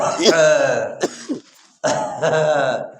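A voice imitates a smoker's rough, throaty cough in a few harsh bursts, separated by a brief silence.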